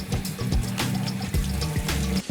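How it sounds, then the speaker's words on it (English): Water running in a kitchen sink as beans are rinsed, a steady splashing flow with shifting gurgles, close up and without speech. "I'm just gonna kind of rinse it a couple of times."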